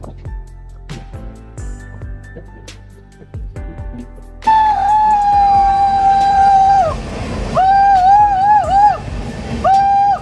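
Loud rumbling roar of a train running through a tunnel on the Araku line in Andhra Pradesh, with a sustained high whine and screeching tones echoing over the din.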